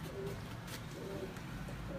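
A pigeon softly cooing, a few faint, low, rounded coos spaced through a quiet background.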